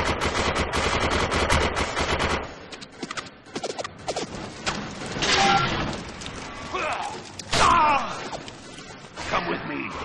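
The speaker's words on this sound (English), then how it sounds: "Sentry guns are still active." Automatic sentry guns firing in the sci-fi shooter video game Defiance, loud rapid bursts of gunfire at the start, then scattered shots and impacts mixed with game effects and voices.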